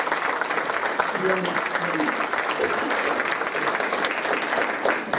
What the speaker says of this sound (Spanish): Recibamos con un aplauso al maestro Antonio Flores